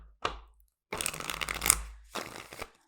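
A Muse Tarot card deck is shuffled by hand in two bursts of riffling, papery flutter, close and clear, separated by brief silence after a short opening tap.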